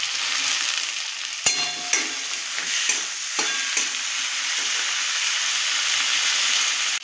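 Grated ginger, garlic and onion with ginger-garlic paste fry in a pan with a steady close sizzle, broken by a few spatula scrapes and knocks as they are stirred.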